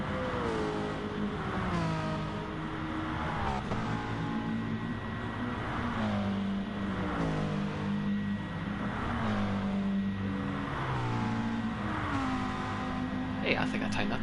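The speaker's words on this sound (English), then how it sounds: "Couple shots here of the cars going by." Several race cars in GT Sport sweep past on the Suzuka circuit, engines revving and shifting in repeated rising and falling sweeps, with a steady layered drone of motors throughout.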